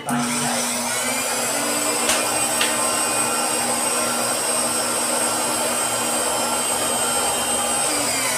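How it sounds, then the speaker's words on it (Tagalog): Blower runs steadily and loudly up close, a constant whooshing roar with a high whine on top and a couple of brief knocks partway through. "Hindi na natakot yung blower."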